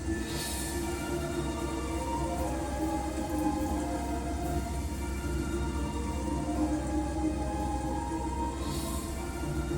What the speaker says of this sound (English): There we go, see the rain.